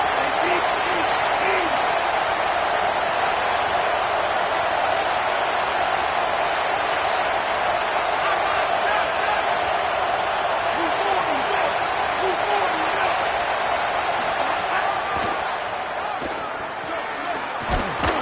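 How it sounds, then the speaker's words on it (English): Stadium crowd noise from the College Football 27 video game, a dense, continuous roar of a home crowd on third down, loud and steady for the whole stretch, easing slightly near the end, with no clear speech. "The Tide crowd rolling noise down onto Saban Field on third down."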